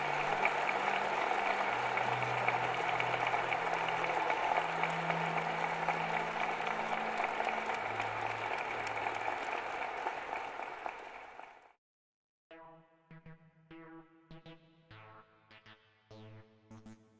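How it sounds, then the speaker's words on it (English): Audience applause for General Alexander at the close of a DEF CON session, a dense sustained clapping over a low music bed that cuts off abruptly, followed by a sparse plucked tune. "let's have a round of applause for General Alexander"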